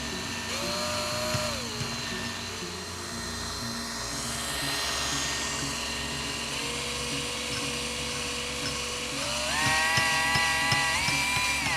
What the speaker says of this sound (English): Let's try a drill.